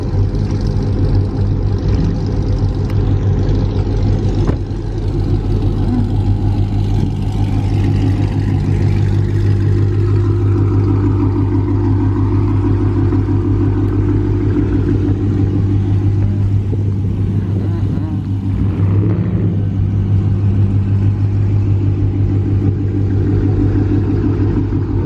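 A car with a 392 engine in Houston idles steadily, giving a deep, continuous low rumble close by that stays even throughout with no voices over it.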